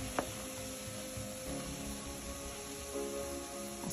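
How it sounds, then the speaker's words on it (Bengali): Semolina pitha frying in a pan gives a steady, faint sizzle of hot oil throughout, with an occasional soft tap or scrape near the start and no talking. "এখন এগুলোকে ভালো করে উল্টিয়ে পাল্টিয়ে ভেজে নিতে হবে"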